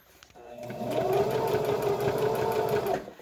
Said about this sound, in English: So I'm definitely stitching it down.